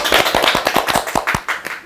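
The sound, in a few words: clapping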